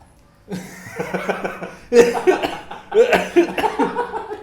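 Several short coughs in a row, fairly close, with some throaty chuckling mixed in and a brief quiet moment at the start.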